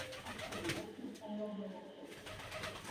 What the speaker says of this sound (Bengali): এগুলো সম্পূর্ণ দেশি কবুতর।